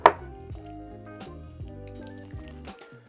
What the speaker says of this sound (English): So I'm gonna give this a quick stir real quick.